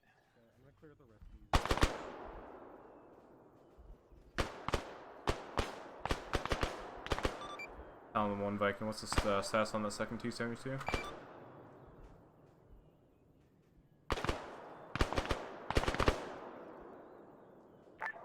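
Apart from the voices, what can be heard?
gunfire from the video game ArmA 3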